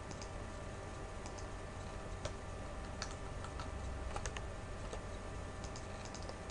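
Computer mouse clicks tap out sharply in short irregular bursts at a desk during Photoshop editing, quiet and close against faint background hiss, with no voices.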